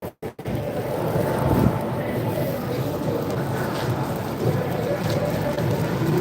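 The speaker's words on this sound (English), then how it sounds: "it is rainy" Rain falls outdoors at the Daytona 500 race fan zone, a steady loud hiss and spatter that continues evenly after a brief broken start.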